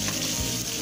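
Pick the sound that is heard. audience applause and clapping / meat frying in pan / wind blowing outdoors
meat frying in pan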